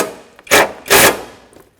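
Two loud, rapid bursts from a power tool tightening battery tray bolts on a 2000-2005 Ford Excursion, each roughly a quarter second long, with a short pause between.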